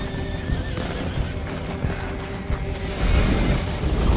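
A horse whinnies and its hooves clip-clop in Red Dead Redemption 2, set against a dense, busy game soundscape with other sounds layered in and a louder stretch near the end.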